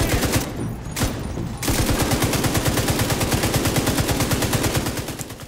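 Rapid automatic gunfire from a firefight in the video game The Division 2, a dense, loud stream of shots with a couple of brief pauses early before a sustained, evenly spaced burst.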